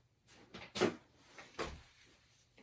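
A toddler's hidden snack drawer in a craft room slides and bumps open or shut in a few close knocks and scrapes, moderately loud, with no talking.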